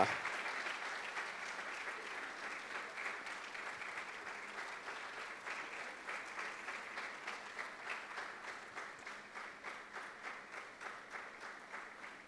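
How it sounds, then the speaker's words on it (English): An audience at a school prefect ceremony claps steadily and continuously, a dense, even wash of applause that carries on throughout without fading. "Let's continue to clap our hands."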